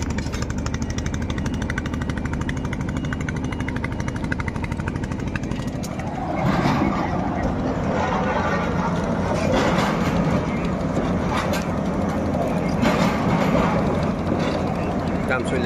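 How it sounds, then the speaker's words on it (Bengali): Construction machinery works on a ship at a bridge building site, with a steady mechanical rumble that grows louder and rattles with hammering after a few seconds. Someone talks over the noise. "দেখেন জাহাজের উপরে মানে কিরিং কুরিং কি মেশিন জাহাজের উপরে করার কাম চলে আছে।"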